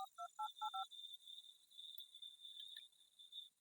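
Phone keypad tones sound as a call is dialed: five quick, evenly spaced dual-tone beeps at the start, followed by a faint, steady high insect chirr.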